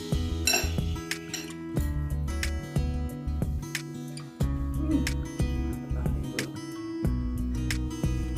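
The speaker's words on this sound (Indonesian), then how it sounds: "Kita aduk dulu bro biar bumbunya" Metal utensils clinking and scraping against a bowl while chicken noodles (mie ayam) are stirred to mix in the seasoning, repeated close clatters over a steady background hum.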